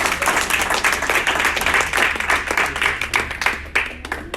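A crowd at a product pre-launch event claps in steady, dense applause that holds throughout and thins slightly toward the end.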